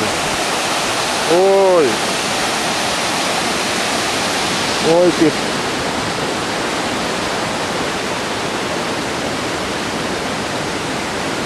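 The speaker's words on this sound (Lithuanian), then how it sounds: "Kaip vanduo bėga." A waterfall in Croatia roars with a loud, steady wash of rushing water from start to finish, briefly interrupted by two short shouted calls from a person nearby.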